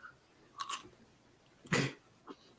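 Crunchy hot pepper being chewed close to the mic, two short bursts of crisp crunching separated by quiet pauses, then a small final bite, faint and intimate with no speech.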